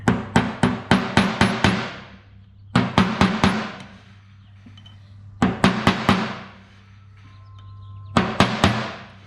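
A hammer strikes a brand new chisel during the hoist cylinder rebuild of a Cat 740 dump truck. There are four quick bursts of five to seven sharp, ringing metallic blows, each burst separated by a short pause.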